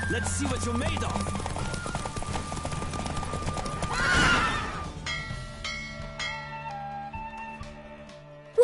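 Horse hooves clip-clop at a gallop in The Witcher 3 game, with a clear neigh midway and steady hoofbeats continuing under game music and bells, fairly loud and close.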